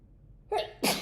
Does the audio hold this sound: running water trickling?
no